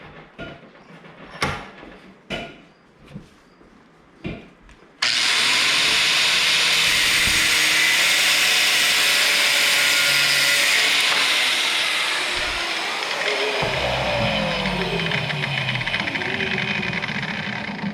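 Angle grinder cutting metal for motorcycle forward controls on a Harley-Davidson Dyna Street Bob, a few sharp knocks followed by a loud continuous grinding whine that holds steady then shifts in pitch as the cut finishes, no talk.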